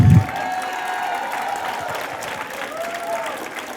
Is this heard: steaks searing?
no